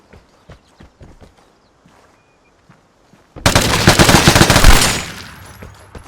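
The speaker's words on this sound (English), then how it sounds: "at least he had sense enough to shoot through the plywood" In the video game Vigor, a few sparse taps and footsteps lead into a sudden, loud, rapid burst of automatic gunfire fired through plywood, close and dense for about two seconds before it fades out.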